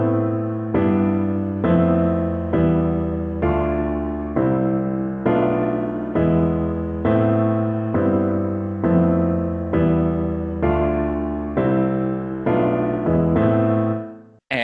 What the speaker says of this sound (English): So the entire effect will sound like this.